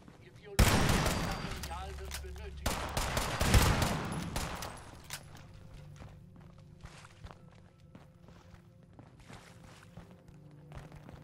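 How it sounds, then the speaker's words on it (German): Bursts of gunfire in the video game Fallout 76, two loud rapid volleys close together followed by quieter scattered shots and footsteps. "Ich höre schon Schüsse."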